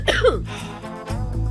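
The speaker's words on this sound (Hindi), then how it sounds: "वो जरा खांसी हो गई मुझे" A woman coughs in a Turkish drama dubbed into Urdu, a few short harsh bursts close to the mic over a low background hum.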